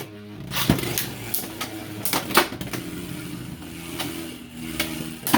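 Beyblade X spinning tops, including Viper Tail 5-80 Orb, are launched into a stadium and clash in a series of sharp, irregular clacks and rattling hits over a low whirring spin.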